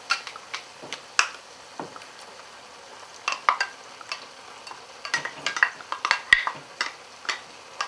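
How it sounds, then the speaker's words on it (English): Chopped green chilies being stirred around a pan with a spoon, giving irregular scraping clicks and taps against the metal over a soft background sizzle, close and moderately loud with no talking. "Stir that around in there."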